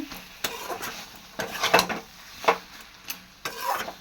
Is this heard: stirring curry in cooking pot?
yes